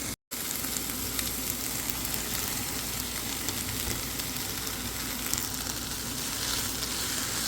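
Shredded turkey meat sizzles and fries steadily in a pan, a dense, even crackle that continues without a break and is heard alone.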